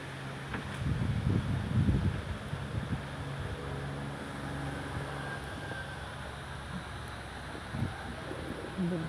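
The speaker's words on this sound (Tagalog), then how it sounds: "Bugso ng malakas na hangin guys." Strong gusts of Typhoon Odette roar in a steady, broadband rush, building to a heavier buffet early on and then holding a continuous blustery wash with low rumble throughout.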